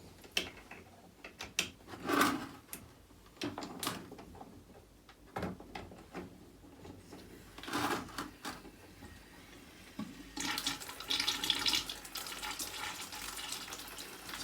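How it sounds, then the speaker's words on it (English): Water runs from the drain tap of a domestic heating system into a bucket, a slow, steady stream with intermittent clicks and knocks, louder and more continuous toward the end. "what you want is a nice, slow, steady stream of water."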